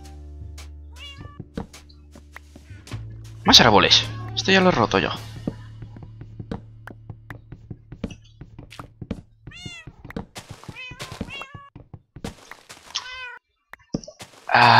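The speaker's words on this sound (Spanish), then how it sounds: "¡Ah, pobre gato!" A Minecraft cat meows repeatedly, short rising mews scattered over the stretch, interleaved with block-breaking thunks and someone talking excitedly.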